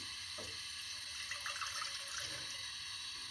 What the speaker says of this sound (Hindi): चाय बनाने के लिए सबसे पहले एक पैन लेंगे, इसमें 1 गिलास पानी शामिल कर दें।